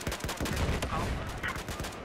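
Rapid bursts of gunfire crackle continuously in Battlefield 4 combat, dense and loud with repeated sharp shots layered over each other throughout.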